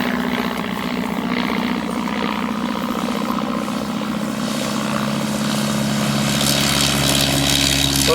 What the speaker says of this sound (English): That aircraft just took off